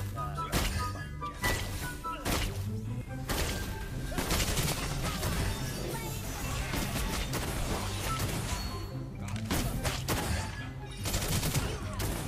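Rapid bursts of gunfire from the hero Clint in the mobile game Mobile Legends crackle in repeated volleys over a dense, busy mix of game sounds and voices.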